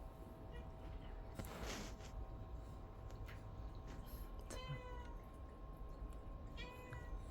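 A cat meows a few times nearby, short high calls spread over a quiet background with a faint steady hum.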